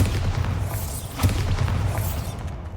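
Bombarda spell blast in Hogwarts Legacy: a deep rumbling boom with low thuds rolling under a steady game soundscape, one sharper impact near the middle among scattered crackles.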